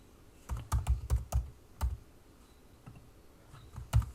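Quick bursts of keyboard typing, a cluster of clicky keystrokes followed by a few scattered taps, close and fairly quiet.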